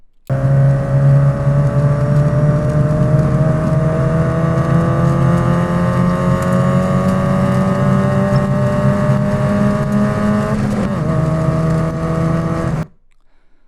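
Race car accelerating at full throttle on the Carolina Motorsports Park circuit, a loud, sustained engine roar climbing steadily in pitch for about twelve seconds, with a brief shift near the end before cutting off abruptly.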